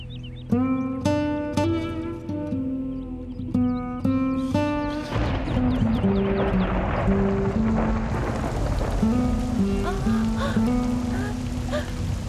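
Rain comes in as a broad, rushing hiss that swells and then continues steadily under a plucked, tonal musical melody.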